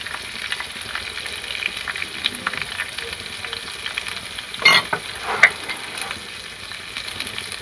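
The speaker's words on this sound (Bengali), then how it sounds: "ভালো করে মশলা কষিয়ে নেব" Tomato cooked down with green chili, ginger paste and turmeric fries in a pan with a steady, soft sizzle. A spoon stirs it with a few louder scrapes and clatters near the middle, and no one talks.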